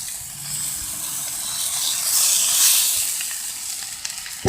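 Breakfast sandwich ingredients frying on a flat grill next to tater tots give off a steady, soft hiss that swells slightly midway, with no voices.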